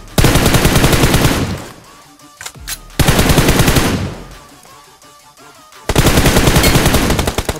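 Automatic gunfire in the battle royale game PUBG on the Livik and Erangel maps, loud sustained bursts of rapid shots separated by a quieter gap with scattered noise, then another long burst.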